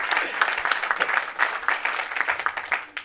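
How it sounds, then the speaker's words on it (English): An audience at a magic and skepticism Q&A session gives dense, continuous applause that stays fairly even and close for its whole length. "clap for this guy"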